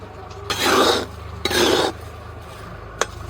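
Hot sand is scraped and tossed over a snack being roasted the old-fashioned way, making two long, loud gritty rasps followed by a short scrape, with no talking.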